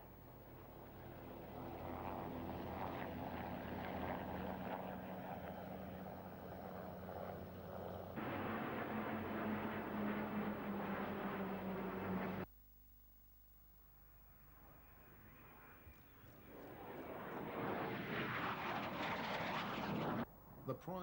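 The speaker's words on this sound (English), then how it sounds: "Finningley operates 7 types of aircraft, and they're all featured in the station flypast." Aircraft engines roar overhead in a flypast at the RAF Finningley air show in 1991, a loud sustained drone that cuts out abruptly then swells again as another aircraft approaches, with talk mixed in.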